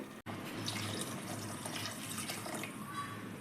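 Water left from boiling tomatoes pours into a pot in a steady, continuous stream, a close, even splashing rush that keeps going without a break.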